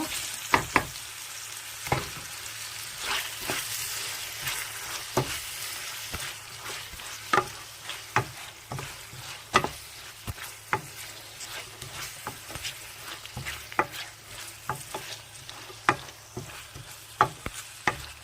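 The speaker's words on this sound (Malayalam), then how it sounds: "ഇതിലേക്ക് ടൊമാറ്റോ ഇടുന്നു" Tomatoes frying in a pan for a moringa leaf biryani rice, a steady soft sizzle broken by frequent sharp clicks and scrapes of stirring, close and moderately quiet, with no voices.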